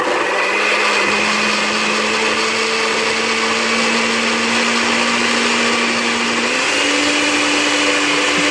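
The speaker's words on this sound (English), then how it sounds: "We're going to blend everything." A blender grinds rosemary, fennel seeds, cumin seeds and anise seeds in a loud, continuous whirring roar that holds steady throughout, its motor pitch rising slightly near the end.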